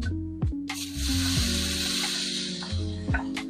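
Bacon fries in cooking oil for a Filipino-style carbonara, giving a steady loud sizzle with a few clanks of utensils against the pan, no talking.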